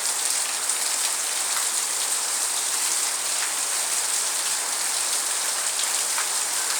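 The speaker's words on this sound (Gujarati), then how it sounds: "આ વરસાદ આવવાનું ચાલુ થયું છે" Steady late-monsoon rain pours down in a village in Ranpur taluka, Botad district, a dense even hiss of drops on surfaces that holds constant and loud throughout, with no voices.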